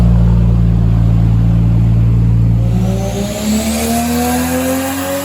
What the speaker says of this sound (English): Cannot get over how good this exhaust sounds, man.